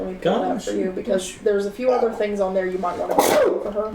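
One person sneezes once, a short sharp burst near the end of a stretch of casual conversation, with voices talking throughout.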